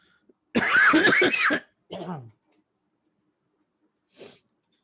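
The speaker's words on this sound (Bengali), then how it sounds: "অসুস্থতার জন্য জুড়ে জুড়ে কাশি দিতেছি" A burst of several harsh coughs up close, then a shorter cough and a faint throat-clearing after a pause.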